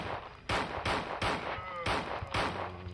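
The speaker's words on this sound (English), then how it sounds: "now we're using the Colt" Colt revolver shots in Resident Evil 2 on PS1, five sharp loud blasts spaced about half a second apart, each with a short ringing tail over a low game ambience.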